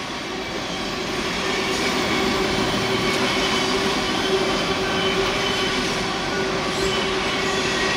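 A Norfolk Southern freight train with large boxcars passes close by in a continuous loud rumble, with steady wheel noise and some squealing over the rails and no break in the sound.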